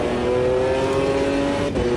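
A McLaren GT1 race car in the sim racing game Automobilista 2 revs hard on the Nordschleife while short-shifting, its engine note loud and close, with a brief dip in tone near the end as a gear changes.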